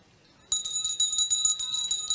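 A bell rung rapidly for the final lap of a women's track race at a state championship, loud and bright and continuous after a short quiet start.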